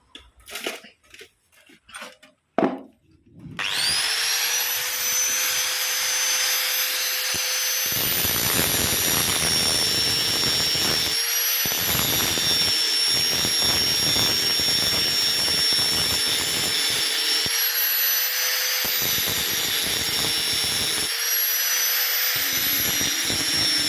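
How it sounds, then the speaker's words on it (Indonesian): An angle grinder works on a motorcycle clutch part, a loud continuous high-pitched whine with brief drops and restarts after a few short starting bursts. "langsung saja kita gerinda dulu"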